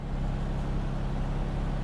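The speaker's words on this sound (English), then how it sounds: "You can hear engines." Steady low engine drone from trucks and cars in the TruckersMP driving game, a constant rumbling hum with no breaks and no talk over it.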